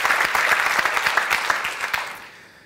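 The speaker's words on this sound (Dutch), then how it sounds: "Alvast een applaus voor drie kandidaten." A live audience at a city-nature quiz café claps for three contestants, a dense, steady round of applause that thins and fades toward the end.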